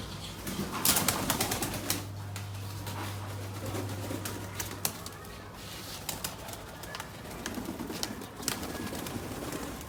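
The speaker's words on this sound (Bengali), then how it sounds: "আমি সব কবুতরদেরই ছাড়লাম" Rampuri pigeons in a loft, cooing in low, rolling calls close by, with bursts of wing flapping and scattered shuffling and clicks around them.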